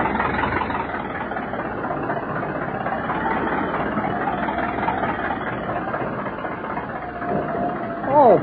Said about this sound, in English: Those engines sound like the stern's coming clean out of the water.